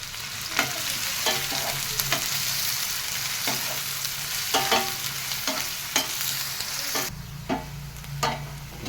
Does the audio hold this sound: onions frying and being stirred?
yes